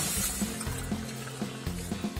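Water pours into a cooking pot onto jaggery for a halwa, a soft continuous trickling splash with faint knocks, quiet and close.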